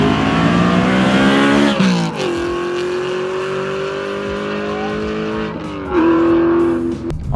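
A BMW M3 engine with a loud exhaust revs hard and climbs in pitch through gear shifts on the street, loud and close, with a throaty roar and no talking.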